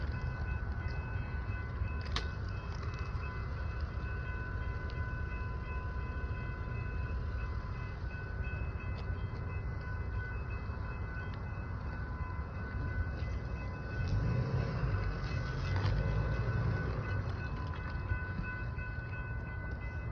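Low, steady rumble of a large stopped intermodal freight train nearby with a constant mechanical hum, a faint clank early on and slight swelling near the end.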